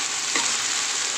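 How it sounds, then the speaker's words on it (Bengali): Onion and potato fry gently in a pan, a close, steady sizzle holding at an even level throughout with no talk. "চলুন এটা একটু হালকা হালকা ভাজা করতে হবে, কেন পেঁয়াজটাও ভাজা হতে হবে প্লাস আলুটাও তার সাথে ভাজা হয়ে যাবে"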